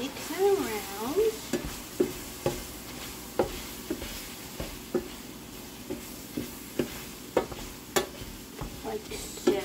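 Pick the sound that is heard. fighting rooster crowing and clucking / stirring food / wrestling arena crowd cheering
stirring food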